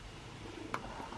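A cat purrs up close in a low, steady rumble through a quiet room, with one brief sharp sound partway through.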